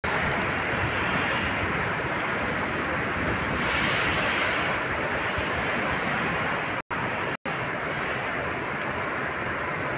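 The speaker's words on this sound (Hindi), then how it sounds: "बहुत ज़्यादा बारिश हुई है, इससे ये पानी चलना शुरू हो गया नीचे" Rainwater rushing downhill after heavy rain, a dense, steady broadband roar of flowing water with wind noise on the microphone, loud and continuous throughout, with no talking.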